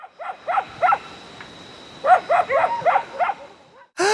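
Dogs bark in the woods in two bursts of rapid, repeated barks, a few at first, then a denser volley, moderately close with a brief pause between.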